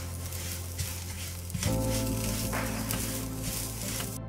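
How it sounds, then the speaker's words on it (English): Coconut and coriander leaves roasting in a pan for a bakarwadi filling, with a steady soft sizzle and occasional stirring scrapes, fairly close and without talk. "Now I will add this coriander leaves and I will just roast it for just 1 more minute."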